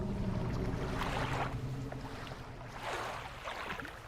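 A boat moves on water in the video game Dredge, with a low engine hum and soft swells of splashing water rising and falling.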